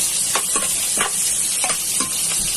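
Sliced onions sizzle in a hot pan while pork caldereta is cooked, a steady bright crackle broken by a handful of scraping stirs, each a short swell in the hiss.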